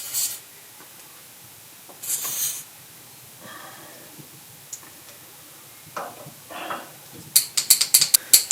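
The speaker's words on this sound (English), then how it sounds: "So I'll just pull those sockets in a little bit tighter" A socket ratchet works on a Kawasaki KLF300 4x4 ATV, giving sparse clicks and rubs and then a fast burst of sharp ratcheting ticks near the end, close by and with no talking.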